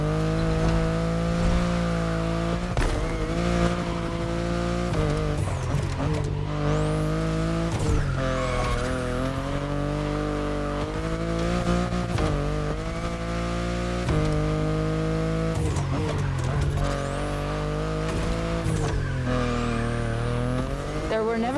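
BMW i8 sports car driven in The Crew Motorfest, its engine droning and revving through repeated gear shifts over about twenty seconds, with brief tire squeals, loud and continuous with no talk.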